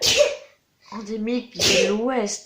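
A single sharp sneeze bursts out close at the start, followed by a person speaking.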